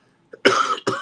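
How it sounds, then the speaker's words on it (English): A person gives two harsh, close coughs in quick succession, the first longer and rasping, the second short, after a faint intake of breath. "I do still have a cough"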